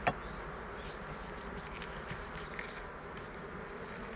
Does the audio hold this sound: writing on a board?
no